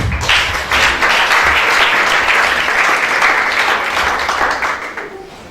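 A church congregation applauds loudly and continuously for several seconds, a dense close wash of clapping that tapers off at the end.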